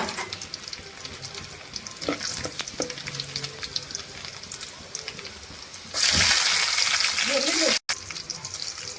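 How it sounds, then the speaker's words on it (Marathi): Garlic hits hot oil and bursts into a loud, steady sizzle that lasts a couple of seconds after quieter kitchen clatter, stirring and a running tap while cooking a Maharashtrian thali. "तेल गरम झालं आहे. त्यामध्ये लसूण घालूया."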